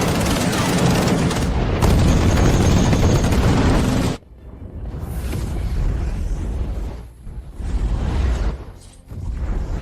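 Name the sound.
gunfire and anti-aircraft fire effects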